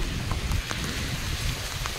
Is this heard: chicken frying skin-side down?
no